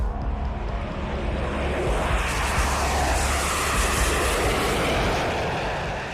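A Lockheed Martin F-22 Raptor fighter jet roars loud and close, a steady broadband engine rush that holds unbroken from start to finish.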